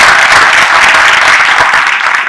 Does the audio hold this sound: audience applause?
yes